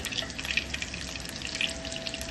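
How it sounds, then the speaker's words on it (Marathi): Bangda mackerel shallow frying in a few spoonfuls of hot oil: a steady, fairly faint crackling sizzle with small spitting pops throughout, close by and with no voices. "चला तर याला शॅलो फ्राय करून घेऊया"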